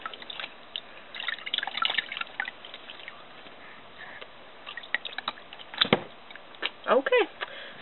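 Water splashing and dripping as a face is rinsed off during a facial cleansing routine, close and uneven, with bursts of splashing and a few wet sounds from hands and face.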